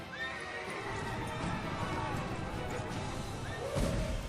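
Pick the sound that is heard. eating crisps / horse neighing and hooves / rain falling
horse neighing and hooves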